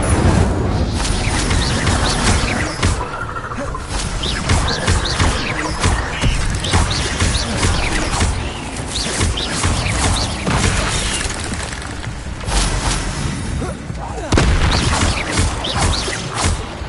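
Continuous loud Incendio fire spell blasts in Hogwarts Legacy combat, dense whooshing and crashing bursts with repeated impacts throughout, no speech.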